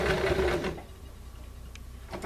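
A sewing machine back stitches on a fabric tote, running loudly for under a second, then dropping to a softer, rhythmic low whir with a faint click near the end.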